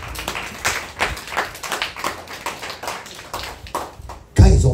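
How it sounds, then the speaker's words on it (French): Rhythmic clapping from a church congregation during a French-language sermon, steady hand claps in a regular beat, fairly close, ending with a sudden louder burst of noise. "Applaudissez Jésus, alléluia."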